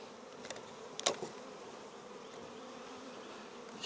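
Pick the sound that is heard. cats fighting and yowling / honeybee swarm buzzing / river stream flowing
honeybee swarm buzzing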